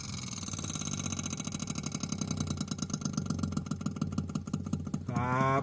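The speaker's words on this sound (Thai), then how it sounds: "เหมือนมอเตอร์เดินอะไรสักอย่างหรือว่ามีการขัดสี อะไรสักอย่างนะครับ" An inverter refrigerator's freezer compartment makes a loud motor-like noise, a steady, close, pulsing drone that runs throughout and shifts to a rising whine near the end.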